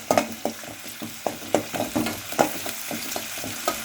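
Onions and chilli sauté in a pan, a steady sizzle punctuated by quick, regular spatula scrapes and taps, close and lively, with no one speaking.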